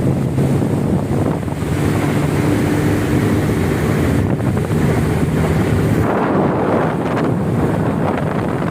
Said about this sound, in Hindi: मंगला डैम का ठाठे मारता हुआ पानी अपनी पूरी जोशो खरोश के साथ।